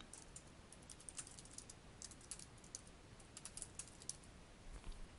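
Typing on a computer keyboard while configuring client list menus in software, a steady run of quiet, quick key clicks with short bursts and pauses, heard alone without talk.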